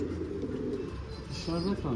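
Soft cooing from a young, worn-looking pigeon with low throaty notes, moderately close, over a steady background murmur and faint voices.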